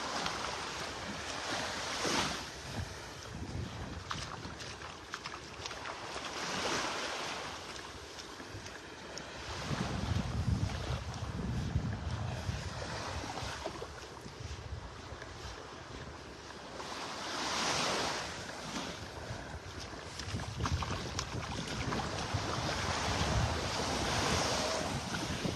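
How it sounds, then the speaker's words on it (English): Wind buffets the microphone on a beach in North Naples, Florida, while ocean waves surge and wash ashore in repeated swells, loud and close, with no one speaking. "that breeze is picking up"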